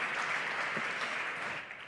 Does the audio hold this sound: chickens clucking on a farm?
no